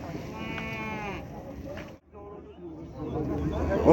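A sheep bleats in a short wavering call at the Kyzylorda livestock market, close and clear, while people talk and other market noise carries on around it.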